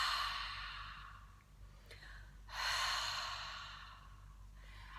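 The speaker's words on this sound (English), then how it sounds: "just imagine that you're misting up the mirror with your breath" A long, breathy exhale through an open mouth, like fogging a mirror with warm breath, with a soft pause and a brief click before a second steady exhale that fades gradually, close and intimate with no talking.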